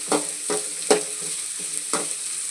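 A spatula scrapes and stirs vegetables in a hot pan for Yippee noodles in several distinct strokes, under a steady bright sizzle of frying.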